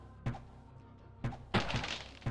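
Explosions and impacts in the video game Diablo 1 (HD Belzebub mod), a series of four sharp, heavy thuds, the third a longer, crunchier burst, quiet over a faint background with no speech.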